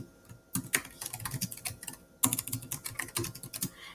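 Rapid typing on a computer keyboard, two quick bursts of close, crisp key clicks separated by a brief pause, with no talking.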